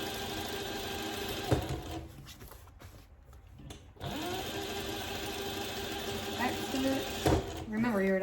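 Sewing machine stitching a zippered project bag: rapid mechanical whirring runs in bursts with brief stops and clicks, close and clear, and a person talks between and over the stitching.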